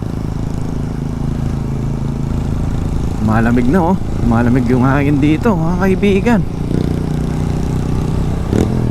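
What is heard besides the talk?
Yamaha PG-1 motorcycle engine straining uphill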